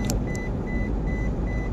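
A car driving across the Penang Bridge over the sea gives a steady, even low road rumble from inside the cabin, with a faint, evenly repeating high tone.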